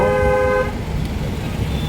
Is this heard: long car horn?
yes